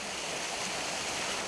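Soft, steady rushing of a cascade at the far end of a gorge where cliffs meet, among springs and trickling runoff, a faint continuous hiss with no voices.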